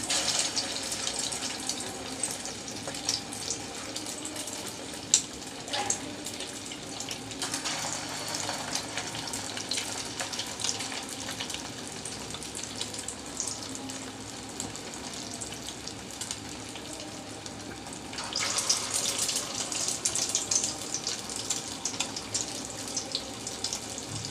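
Egg-dipped kebabs sizzling in hot oil, a continuous crackling hiss that swells louder near the end, with faint clinks from cooking utensils and no talking.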